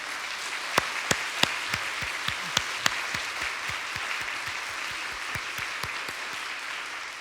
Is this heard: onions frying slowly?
no